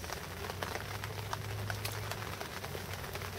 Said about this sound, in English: Oh, still raining quite heavily outside.